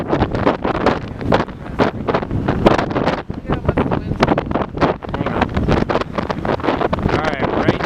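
Storm gusts of around 50 mph in south central Pennsylvania near the Maryland border roar and buffet close by in loud surging bursts, with a voice talking partly underneath.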